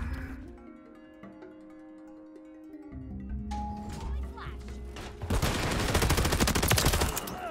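Gunfire in the Call of Duty MWIII beta: quieter game sounds and music at first, then a sudden loud burst of rapid automatic fire near the end, heavy and close.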